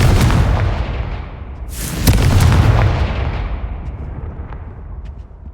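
A Confringo blasting spell explodes in Hogwarts Legacy as a deep, loud boom with a sharp burst near the two-second mark, then a long rumbling tail that slowly fades.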